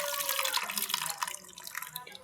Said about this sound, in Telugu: ఈ పిండుకున్న రసం, ఈ పులుసు అనేది ఇందులో పోసుకుందాం.